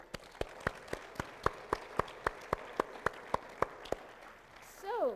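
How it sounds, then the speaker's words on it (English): Steady rhythmic clapping at an opening session of the Conference of Youth in Madrid: about fifteen sharp, evenly spaced claps, close and fairly loud, followed by a short sweeping noise at the end. "Give that a clap"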